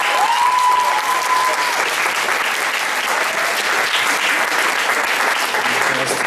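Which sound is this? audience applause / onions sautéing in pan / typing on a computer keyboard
audience applause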